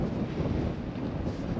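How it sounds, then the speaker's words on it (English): Steady wind buffets the microphone across a bleak, lonely open Saxon landscape, a continuous low rumbling roar with no let-up and no voices. "It's not cold, it's windy"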